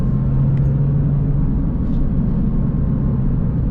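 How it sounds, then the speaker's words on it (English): A stock Porsche 996 911 engine drones inside the cabin as the car accelerates, giving a loud, steady low rumble with no voices. "You guys can hear the engine, I hope, in the microphone."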